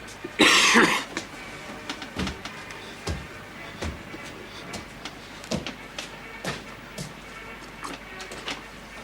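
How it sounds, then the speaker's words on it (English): A man coughs hard and close at the start, followed by scattered sharp knocks and thuds in a quiet room, with no speech. "finish your coughing, get out."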